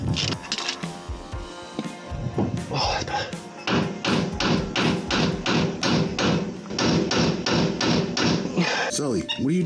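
Repeated metallic hammer blows on a car part during a clutch replacement ring out in a steady, fairly fast rhythm, loud and close, with a brief scrape at the end.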